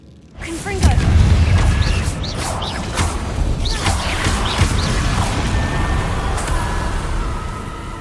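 A Confringo fire spell explodes in the Hogwarts Legacy video game: a sudden booming burst lands about half a second in, then a dense, crackling rumble carries on steadily to the end.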